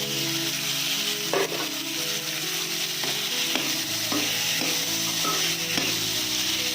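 Peas roasting in a little oil for a pea curry, a steady bright sizzle with scattered scraping stirs of a utensil through the pan, close and continuous with no talk.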